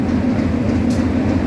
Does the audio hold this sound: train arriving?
yes